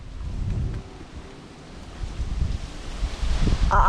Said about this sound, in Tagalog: pagkalakas ang hangin